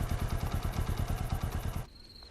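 Motorcycle engine idling close by with a steady low rapid thumping putter, then cutting off abruptly into quiet.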